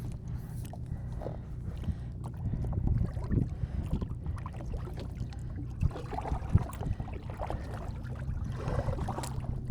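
A small boat being paddled on tidal water near Little Yarmouth, with irregular splashes and dips of the paddle, gurgling water and light wind buffeting, close and moderate in level, no talking.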